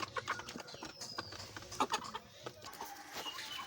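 Chickens at a village home, tied by the legs and ready for sale, cluck and squawk in short, uneven bursts close by over a low farmyard background, with no talking.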